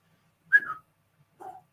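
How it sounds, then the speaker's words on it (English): Someone gives two short whistles, a falling note and then a softer, lower one, both close and in near silence. "Just put your lips together and whistle."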